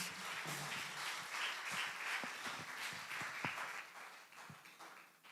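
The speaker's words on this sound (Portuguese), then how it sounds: "Dá uma salva de palmas para o nome de Deus." A church congregation claps in a brief round of applause, a scattered patter of hands that thins out toward the end.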